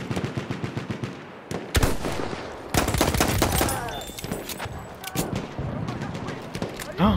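Gunfire in Battlefield 1, with rapid machine-gun bursts and sharp individual shots cracking close and loud, some spaced and some in dense rattling volleys, while a player talks over them.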